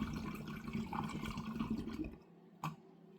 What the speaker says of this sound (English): And then we fill the carboy with water